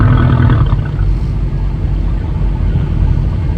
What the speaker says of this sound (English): He'll be doing burnouts all the way down.